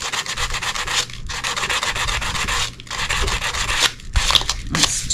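Steady rubbing of sandpaper on resin glasses in short back-and-forth strokes, close and fairly loud, broken by brief pauses, with no talking.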